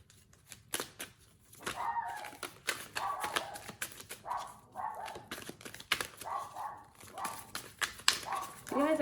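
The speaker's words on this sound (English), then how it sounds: "You guys are hearing the dogs barking." Dogs bark in sharp, repeated bursts from a distance, a busy overlapping chorus with some yelps, fairly faint and muffled.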